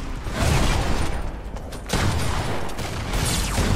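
A grenade going off in the shooter game Fortnite: a loud blast with a long rumbling tail, followed by a second burst of heavy noise, both close and filling the scene.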